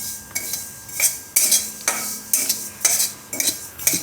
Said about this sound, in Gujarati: આમાં આપણે આ તલ નાખી દઈશું. તો આને આપણે શેકી લેવું.